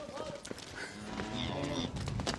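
Cattle moo on a farm while being moved, several overlapping low calls amid a busy, noisy outdoor scene with scattered clatter.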